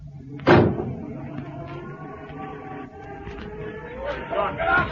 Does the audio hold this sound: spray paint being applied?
no